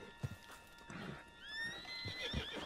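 Horse in Red Dead Redemption 2 whinnying with a rising then falling neigh, close and loud, with hoof clops and snorts around it.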